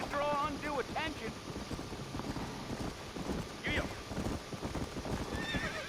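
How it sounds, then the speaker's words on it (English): Horse in the video game Red Dead Redemption neighing loudly and clip-clopping at a gallop, whinnies near the start and middle over rhythmic hoofbeats with wind noise, and voices talking over it. "I'll just jump on a horse and ride it."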